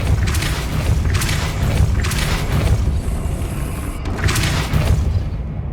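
Depulso spell cast in Hogwarts Legacy, a string of deep booming magical blasts in steady succession over rumbling game ambience, with no voices.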